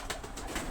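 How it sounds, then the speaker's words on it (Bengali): Pigeons kept indoors on a small home farm give a brief, quiet coo against a soft background hiss, lasting under a second. "এই যে আমার কবুতর"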